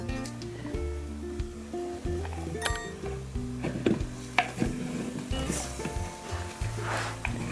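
Food is stirred in a cooking pot over a fire in a Pa-O village kitchen, giving soft, irregular scraping and clinking strokes with a faint sizzle underneath.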